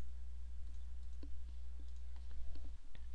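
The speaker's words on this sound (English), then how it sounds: "So I can click." Computer mouse clicks while working in Adobe Photoshop, a handful of faint, sharp single clicks spaced irregularly over a low steady hum, with no one talking.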